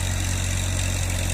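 A tractor engine runs stuck in a village field, giving a close, steady low drone with an even throb and no pauses.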